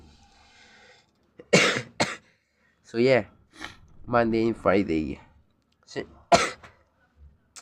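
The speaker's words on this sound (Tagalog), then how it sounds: "may ubo ako" A few sharp coughs burst out between stretches of casual speech, close and loud, with brief pauses around them.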